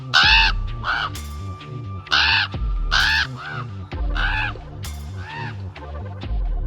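Harsh crow-like caws repeat in short bursts, loud and close, with about eight calls spaced unevenly; the voice sounds like a person imitating a crow.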